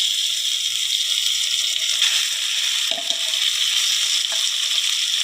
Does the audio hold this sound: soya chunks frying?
yes